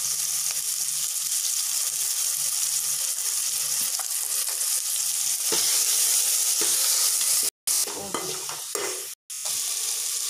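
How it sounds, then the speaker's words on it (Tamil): Onion, tomato, curry leaves and ginger sauté in a pan for village-style kudal kulambu, with steady close sizzling and frying, scraping stirs, and a couple of brief sharp breaks near the end; no one talks. "வெங்காயம் நல்லா இந்த அளவுக்கு கோல்டன் ப்ரௌன் கலருக்கு நல்லா வதங்கிடணும்"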